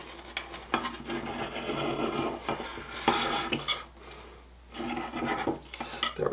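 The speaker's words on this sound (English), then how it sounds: "I just need to go around the edge with a knife to loosen it up" Knife scraping around the edge of a German chocolate cake pan, close rasping metal-on-metal rubs in short repeated strokes, with no talking.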